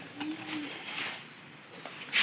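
Pigeons coo softly at a market where pigeon chicks are being sold, low throaty calls rising and fading among faint background chatter and other bird sounds.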